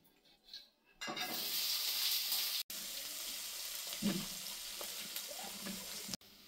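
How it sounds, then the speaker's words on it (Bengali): After a quiet second, chopped onions hit hot oil with whole dried chilli, bay leaf and cumin for a pangas fish curry, setting off a loud, close, continuous sizzle with a few brief clinks and a short break. "এবারে কেটে রাখা পেঁয়াজগুলো তেলের মধ্যে দিয়ে দেবো।"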